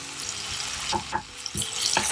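Tomatoes sauté with salt in a pan for a kari dosa, making a soft sizzle with several short stirring scrapes and clatters.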